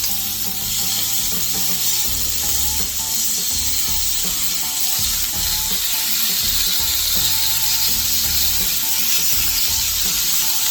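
Sausage in a skillet crackling and sizzling steadily, a dense hissing layer over a low background hum, with scattered pops and a few scraping or clicking sounds throughout.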